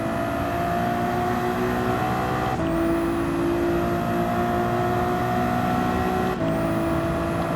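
Lamborghini GT3 race car in Gran Turismo 7, its engine droning loud and steady with a high whine, two sharp gear changes breaking the tone before it climbs again.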